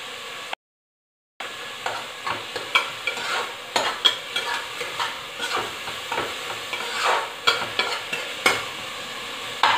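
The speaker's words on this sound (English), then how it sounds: "when the onions are fried well" Onions frying in a pan for chole, with steady sizzling and regular rhythmic scrapes of a spoon stirring throughout, close and moderately loud after a brief gap at the start.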